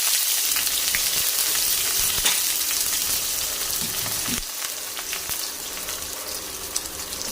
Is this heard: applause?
no